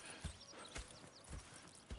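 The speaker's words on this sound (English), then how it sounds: "Go check the horses are ready." Horse hooves in a video game clip-clop in an uneven rhythm, a few quiet thuds spaced apart over a faint background.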